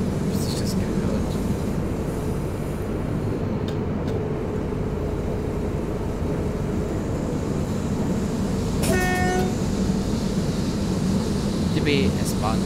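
DB S-Bahn Hamburg train in the Train Simulator 2017 game, a steady rumbling run with a brief horn toot near the end and faint high clicks.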